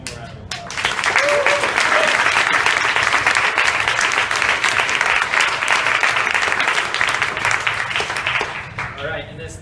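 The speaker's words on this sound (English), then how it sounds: "One more round of applause." An audience at a community show-and-tell meetup for a fitness group gives a loud, steady round of clapping lasting several seconds, with a brief voice heard just before it starts and another as it ends.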